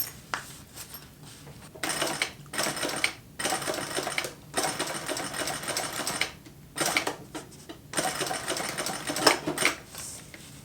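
A sewing machine stitches fabric for a running phone pouch, running in steady buzzing bursts of a second or two with brief stops in between, close and clear.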